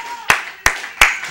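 A church congregation claps hands in unison during a sermon, three loud sharp claps in a steady rhythm with a fainter fourth, close and resonant.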